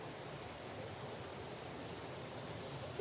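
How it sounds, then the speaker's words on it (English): A waterfall near an alpine lake in Colorado, heard as a steady, even rush of falling water from some distance, quiet and unbroken throughout with no voices. "We found a nice little shady spot to watch the waterfall."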